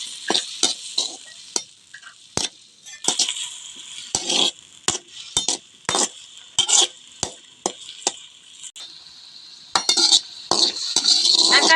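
Chopped tomatoes sautéing in oil for thuthuvalai thuvaiyal, with a steady sizzle and repeated sharp clinks and scrapes of a spoon stirring against the pan, close and clear with no talk.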